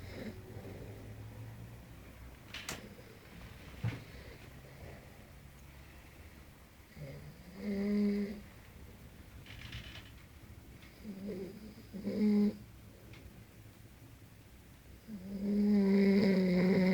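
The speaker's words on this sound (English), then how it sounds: "you're really snoring really loud." A man snores loudly in a room at 5 a.m. on holiday in Tenerife, with three heavy rasping snore bursts spaced several seconds apart over a quiet background.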